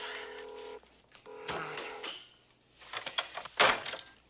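Telephone dialing in a diner scene, heard as a few short tonal beeps and clicks alongside background music and clatter, moderately loud with pauses between bursts.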